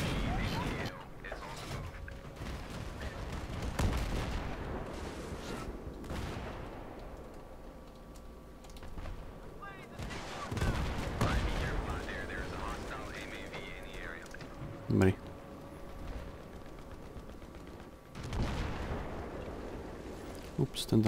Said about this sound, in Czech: Ještě jednou vystřelíme.